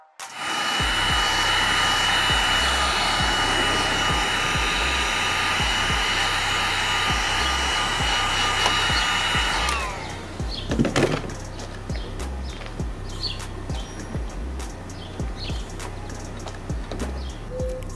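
A heat gun or hair-dryer-style blower roars steadily and close while 3M adhesive tape is heated to pull a carbon duckbill spoiler off a Civic, then cuts off, leaving light handling clatter and rustling.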